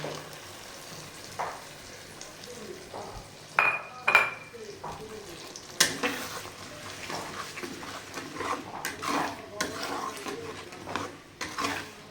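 A paste of rice, cashews and yogurt goes into a pan, with clatter and scraping of utensils against cookware, sporadic clinks and a soft sizzle, and a voice speaking at times.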